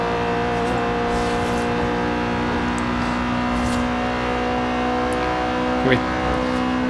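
Toyota GT86 engine racing in the video game Forza Horizon 2, a loud sustained high-revving drone that holds steady with slight pitch shifts, close and continuous, with a person talking over it.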